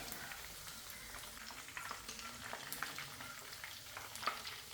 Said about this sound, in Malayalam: ഇപ്പോൾ നന്നായിട്ട് ഫ്രൈ ചെയ്തിട്ട് നമുക്കിത് കോരി മാറ്റാം